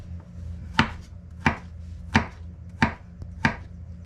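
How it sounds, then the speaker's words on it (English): A knife chops a small zucchini finely on a board: five sharp, evenly spaced thuds about two-thirds of a second apart, close and distinct, with no voices. "we're just going to go ahead and chop this up really fine"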